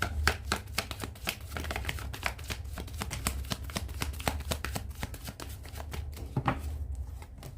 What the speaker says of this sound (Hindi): लास्ट शफल है प्रभु जी।